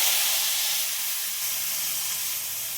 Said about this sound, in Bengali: এবার আমি মশলার জলটা দিয়ে দেবো